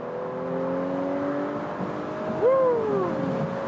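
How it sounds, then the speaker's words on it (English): A BMW or Audi S5 convertible sports car accelerates with its top open on the Autobahn, the engine note climbing in long steady rising tones before a sharp gear shift, with wind noise underneath. "And acceleration with open top."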